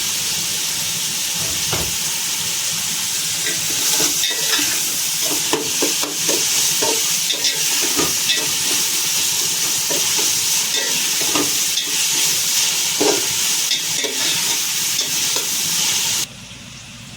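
Tomato and spices, including ground cardamom and home-ground chilli powder, fry in a pan with a steady loud sizzle and hiss, broken by frequent scraping stirs throughout, without talk.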